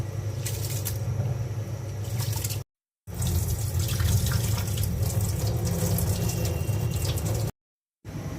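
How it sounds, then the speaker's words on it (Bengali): Pulao rice being washed under a running tap in a kitchen sink, a steady close splashing stream broken by two short silent cuts. "পোলাওয়ের চালটা ধুয়ে নিচ্ছি"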